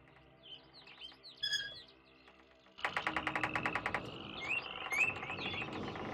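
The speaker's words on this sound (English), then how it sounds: "The birds are very loud!" Birds in the Channelwood age of the video game realMyst chirp in loud, bright calls, first scattered, then a rapid pulsing trill with further chirps layered over a steady ambient hum.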